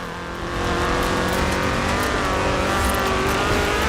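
A Ford RS 1800 rally car in the racing game Forza Horizon 4 revs hard and loud, its engine note rising and holding steady after a brief quiet start, with no talk over it.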